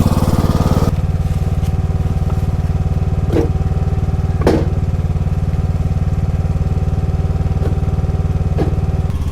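A riding lawn mower engine runs steadily and loudly nearby, a constant throbbing drone with a few sharp clicks and knocks scattered through it.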